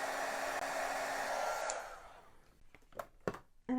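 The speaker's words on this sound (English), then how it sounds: "let me just blow it dry in case it's still a bit wet" A heat tool blows hot air to dry a damp paper craft card, a steady loud whoosh for nearly two seconds that then cuts off, leaving quiet room sound with a few soft handling noises.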